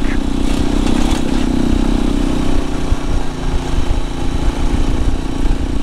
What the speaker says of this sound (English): Man, this road sucks. The washboards are terrible.